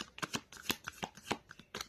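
A deck of tarot cards being shuffled by hand, a close, crisp series of quick riffling flutters in short bursts, no voices.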